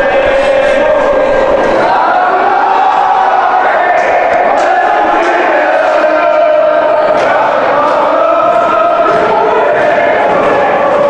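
A hockey crowd sings together during overtime, a loud, sustained chorus of many voices with a broad, echoing arena roar.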